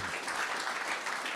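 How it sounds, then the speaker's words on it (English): Conference audience at DevConnect in Argentina clapping for a speaker, a brief, fairly close round of applause with no voices. "please round of applause for Yanis."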